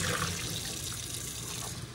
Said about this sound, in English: I'm just gonna go ahead and wash those carrots off.